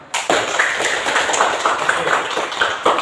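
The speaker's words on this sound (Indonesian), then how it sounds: "Tepuk tangan semua." Group applause from a classroom of students, a steady wash of many hands clapping at close range for several seconds, with a few louder individual claps standing out.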